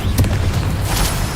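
A Bombarda spell explodes in the Hogwarts Legacy video game with a loud, close, booming blast and rumbling debris that carries on under further bursts.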